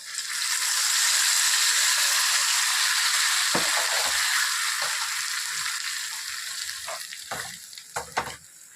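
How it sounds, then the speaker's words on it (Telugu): Hot tempering for gongura dal, fried in ghee, is poured in with a loud continuous sizzle that fades over several seconds, followed by a few sharp clinks of a utensil near the end. "ఇదిగోండి తాలింపు చక్కగా అయిపోయింది కదా, మనము పప్పు తాలింపు వేసేసుకుందాం."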